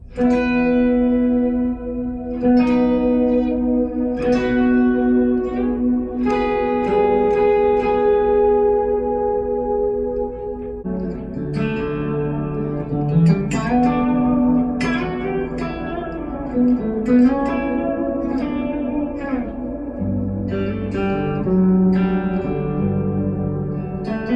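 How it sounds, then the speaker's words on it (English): Electric guitar swells played through a cloud-style reverb pedal on a pedalboard, sustained chords blooming in and out over a thick, shimmering wash that stays steady and fairly loud throughout, with no talking. "Then I have a cloud verb here that I use for swells"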